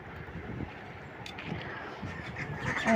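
Ducks being fed quack in soft, scattered bursts at close range, a low busy chatter of a small flock, with faint background noise.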